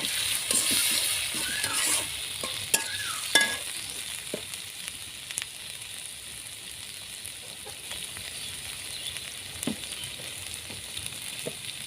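Onion, garlic and ginger paste frying in a pan, a steady close hiss of sizzling oil with occasional scrapes and taps of stirring, loudest in the first few seconds.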